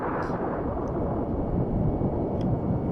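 A bomb goes off inside a building in the SNES game Star Fox, a loud, low, crackling blast that rumbles on steadily without fading, with a few faint higher blips over it.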